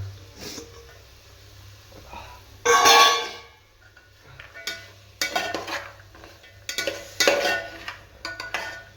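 Peas tipped into pulao in a cooking pan, followed by metal spoon stirring and scraping in uneven bursts over a low background hum, fairly close and clear.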